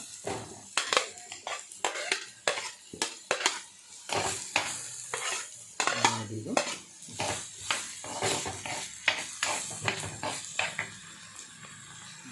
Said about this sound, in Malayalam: സവാള ആഡ് ചെയ്തുകൊണ്ടിരിക്കുകയാണ്. വഴറ്റിയെടുക്കാം.